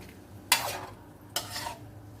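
A spoon scrapes twice through a pot of home-cooked stew with potatoes, two quick quiet strokes about a second apart against a low background hum.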